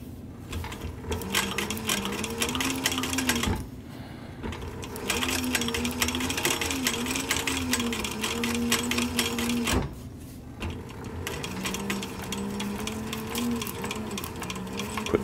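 A sewing machine back-stitching along a cap brim, running in steady bursts of rapid stitching with two brief pauses between runs, close and clear.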